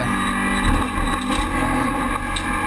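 Onboard a Peugeot RCZ race car circuiting Le Castellet, the engine drones loud and steady with a sustained high whine and no speech.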